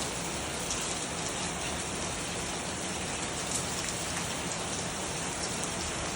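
Heavy summer rain pours steadily on surfaces, a dense, loud, unbroken hiss that holds at the same level throughout with no voices.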